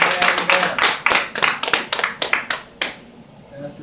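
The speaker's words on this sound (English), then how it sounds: "Give the Lord a big hand clap." A church congregation clapping hands in praise: dense, loud, rhythmic claps close by for about three seconds, then fading into quieter room sound.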